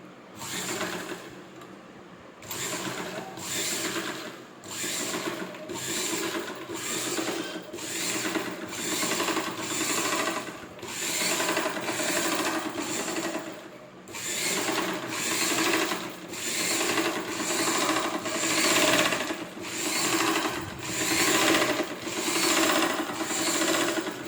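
A sewing machine stitches along a folded edge of fabric in repeated bursts of rapid mechanical rattling, broken by short pauses between runs. The whirring is close and fairly loud, and no voices are heard.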